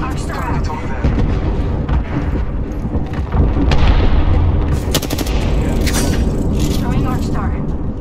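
Gunfire rings out in a shooter video game: sharp cracks and heavy booms in irregular bursts, mixed with other combat noise while someone talks over it.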